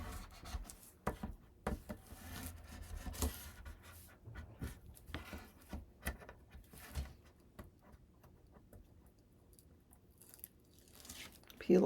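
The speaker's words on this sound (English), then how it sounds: "I'll burnish it." Double-sided tape being burnished down onto paper by hand, giving soft close scratchy rubbing strokes in irregular bursts, with a voice talking now and then.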